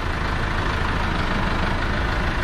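A tractor fitted with a ROHR hydraulic front loader runs at a show, its engine a loud, steady, dense roar that holds unchanged throughout with no talking.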